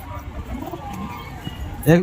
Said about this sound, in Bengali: এই ছাদের উপরে যা পায়রা চড়ছে এগুলো সব পায়রা সেল আছে এখানে